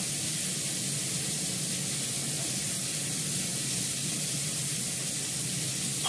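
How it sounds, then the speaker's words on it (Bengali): Cumin seeds tempering in hot oil for a home-cooked vegetable dish, giving a steady, dense sizzle and hiss that runs unbroken from start to finish with no talk. "একটু জিরে ফোড়ন দেবো"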